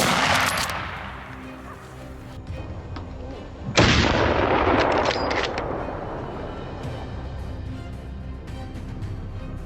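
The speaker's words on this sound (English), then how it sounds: "Then I fired." Rifle gunfire during a boar hunt: one loud, close, booming shot lands in the middle, followed by a long rumbling decay, over a dense background of distant rolling reports and roar.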